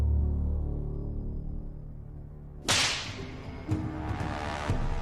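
A scourge-type whip called a scorpion cracks sharply against a hanging pig carcass, one loud snapping lash after a low rumbling lull, followed by a few fainter slaps and impacts, with no talking.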